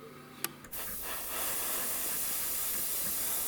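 A steady, loud hiss of spray can primer starts after a couple of faint clicks and continues without pause to the end, coating a plastic model aircraft kit.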